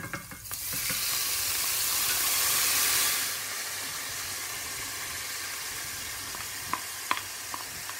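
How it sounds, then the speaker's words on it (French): Minced garlic and bell peppers sizzle in a pan still greasy from cooking merguez, a steady broadband hiss that swells loudly for a few seconds then settles into a softer, continuous frying crackle with occasional sharp pops near the end. "Là, je vais faire revenir les poivrons."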